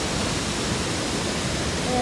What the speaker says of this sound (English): Minnesota's tallest waterfall,